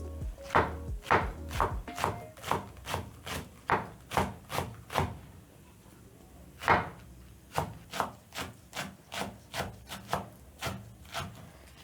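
Knife chopping fresh samosa filling ingredients on a wooden board, with a steady series of crisp, close, evenly spaced chops that pause briefly midway and then resume at a quicker pace.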